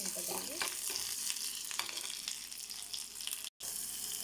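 Onions fry in oil with ginger garlic paste for a chicken curry, a soft, steady sizzle with light stirring that briefly cuts out near the end.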